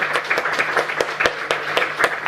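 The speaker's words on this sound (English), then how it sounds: "Can we give Sandra a round of applause again for her story?" A small audience at a panel conversation on trafficking claps for Sandra, a handful of distinct, fairly evenly spaced hand claps rather than a dense roar, close and moderately loud over a faint steady hum.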